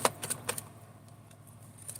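A tarot card deck with one broken card is shuffled by hand, giving a quick cluster of crisp, papery snaps and flicks in the first half second, followed by faint, sparse rustles and near silence.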